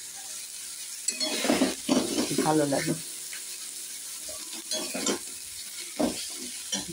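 Ground spices and fried fish are stirred in a hot pan, giving a scraping, sizzling rustle in bursts, loudest early on, with a brief stretch of speech over the cooking.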